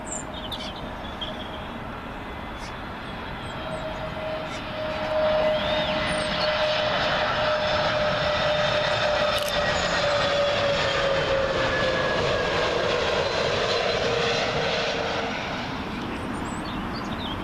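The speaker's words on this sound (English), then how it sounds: "Next in, British Airways A320neo, coming in from Bologna." A British Airways Airbus A320neo from Bologna approaches Heathrow runway 27L, its jet roar building from a distant rumble to a loud, close pass with whining engine tones, sustained alone without speech.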